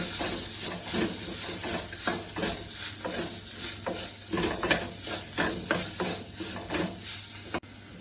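Coriander powder being stirred into a dry fish curry in a pan, with continuous sizzling hiss and repeated scraping strokes of a spoon at a steady rhythm, close and fairly loud.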